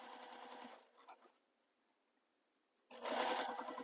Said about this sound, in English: Top stitch all the way across